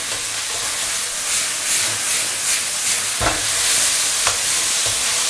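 Pork shreds tossed on the highest heat with pickled red and green chilies and ginger shreds: a steady, close sizzle and hiss with occasional sharp clacks of a spatula against the wok.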